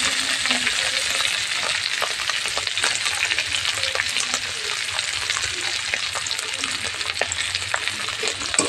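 Onions fry in a pan, a close, steady sizzle and crackle with repeated scraping stirs running throughout and no talking.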